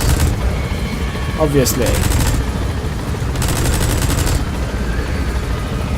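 A helicopter-mounted minigun in Metal Gear Solid V fires two loud, rapid buzzing bursts over a constant rotor drone, with a single brief word spoken.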